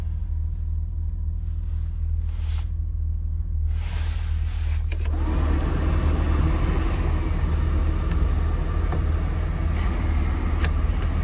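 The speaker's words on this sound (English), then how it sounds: "Blower motor is quiet." A BMW car's heater blower motor runs inside the cabin. A soft, steady whoosh swells louder about halfway through and then holds even and continuous, with no talking.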